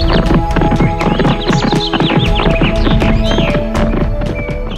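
A horse's hooves clip-clop rapidly and steadily as it climbs a hill, loud and close, with whinnies and a rider's armor implied; rhythmic hoofbeats dominate throughout without speech.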